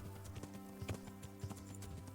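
Horse hooves clip-clopping in the medieval video game Kingdom Come: Deliverance, a quiet, quick and steady rhythm of hoofbeats with no talking.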